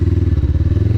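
A 1996 Suzuki 500 GSE motorcycle engine runs loud and close at high revs, its firing pulses beating in a rapid, even throb for about a second.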